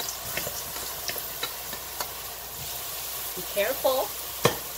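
About two cups of fresh chopped garlic frying in roughly four cups of hot vegetable oil for chili oil gives a steady, close sizzle with scattered crackles and pops, and someone briefly speaks over it.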